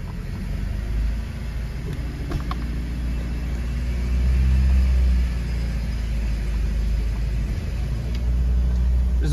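A Peugeot 404 drives along with its engine giving a steady low rumble from inside the car, rising slightly in loudness partway through, with no talking.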